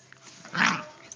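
A dog gives one short, close growl peaking midway through, with a few small noises around it.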